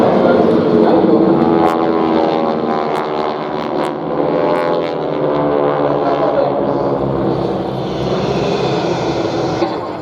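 Military jets fly in formation at the 2021 EAA AirVenture Oshkosh airshow, producing a loud, sustained engine roar that swells slightly and lasts the whole stretch, with a voice talking underneath.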